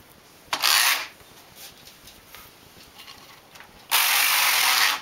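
Neva knitting machine carriage sliding across the needle bed for rows, two loud raspy ratcheting passes separated by a quiet pause, close and clear with no talk.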